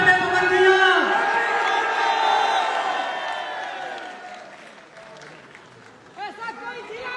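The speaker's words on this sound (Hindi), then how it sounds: "तालियां बजाइए, हैप्पी बर्थडे पवन भैया।" A crowd applauds and cheers at a birthday celebration, loud sustained clapping with whoops filling the space, then tapering off as voices take over near the end.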